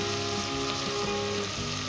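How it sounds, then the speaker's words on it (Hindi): Boiled goat mutton roasts in a pan over medium heat, giving a dense, continuous crackling sizzle close up with no voices. "2 से 3 मिनट ही हम इसे अच्छे तरीके से इसके अंदर भुनेंगे"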